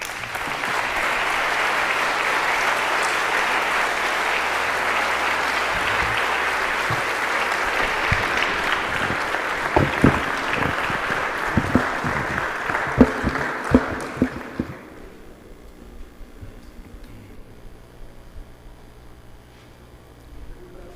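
A conference audience gives a speaker, Dr. Gonzalo Hernández Licona, a long, full round of applause, a dense wash of clapping that carries on for about fifteen seconds, then stops abruptly, leaving only quiet room sound.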